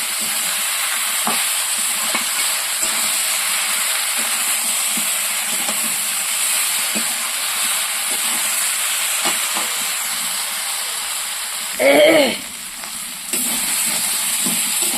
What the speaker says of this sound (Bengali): এবার কাঁঠালের সঙ্গে মশলাটাকে ভালো করে কষিয়ে নেব